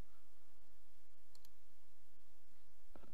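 A few isolated computer mouse clicks while working in LS-PrePost simulation software, with one sharp click after long quiet stretches under a steady low hum and a louder click right at the end.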